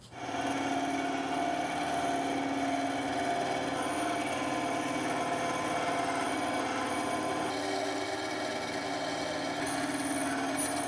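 A bandsaw with a tilted bed cutting through foam for a helmet build, a steady close mechanical whine and hum running the whole time with no talk.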